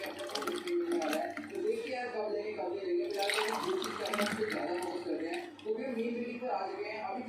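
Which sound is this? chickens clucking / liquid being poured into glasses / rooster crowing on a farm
liquid being poured into glasses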